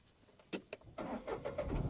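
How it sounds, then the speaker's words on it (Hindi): A manual car's engine is started with the key while the clutch is pressed, two short starter bursts followed by the engine catching and settling into a steady close idle. "आप क्लच दबाइए और चाबी को घुमाइए, जब स्टार्ट हो जाएगा तो छोड़ दीजिएगा"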